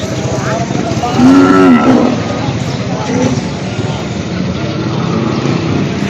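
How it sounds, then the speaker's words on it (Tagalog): Large cattle moo at the Padre Garcia livestock auction market. One loud, drawn-out bellow rises and falls close by, over a constant crowd hum and people talking nearby. "Ayan, malalaking baka."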